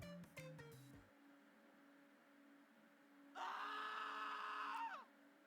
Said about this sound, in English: Every eye turns towards the source of the scream.